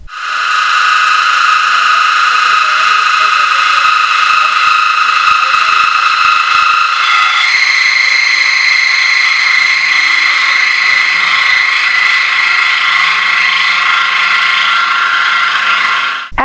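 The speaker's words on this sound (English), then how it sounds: "the crank pin hole was drilled in the casting, and the CNC mill completed the bore for the pin" A CNC mill drills a crank pin hole in a locomotive driver casting, giving a loud, continuous high-pitched whine with steady tonal machining drone that shifts pitch partway through and holds to the end.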